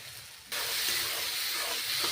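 Ridge gourd sautéing in a pan with added masala spices gives a steady, close sizzling hiss that starts abruptly and holds evenly, with no talk.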